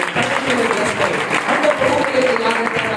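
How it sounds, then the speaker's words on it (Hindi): A church congregation at a Hindi-language service claps loudly and continuously, a full wash of many hands, while a voice talks over the applause. "जोरदार ताली बजाएं, गॉड ब्लेस यू बोलें"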